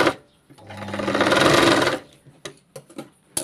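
Sewing machine running in a single steady burst of about a second and a half while stitching a katori blouse, followed by a few faint clicks and fabric handling sounds; no talk.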